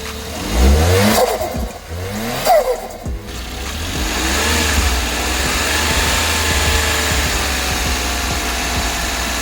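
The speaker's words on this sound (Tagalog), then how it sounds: "pakinggan natin yung vacuum ng turbo niya" A Suzuki Samurai DA64W turbo engine revs hard twice in quick succession, then settles into a steady, throaty running drone close by.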